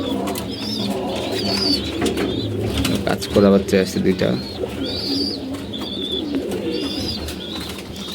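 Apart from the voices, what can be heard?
pigeons cooing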